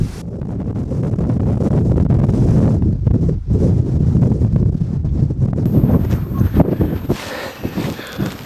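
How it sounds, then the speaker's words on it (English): Heavy wind buffets the microphone in loud, rumbling gusts, briefly dropping before surging again, with faint rustling toward the end. "I'm going to find a spot a bit less windy than this one"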